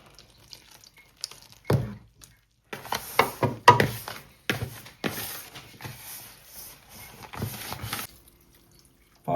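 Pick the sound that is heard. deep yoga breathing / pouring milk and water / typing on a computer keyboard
pouring milk and water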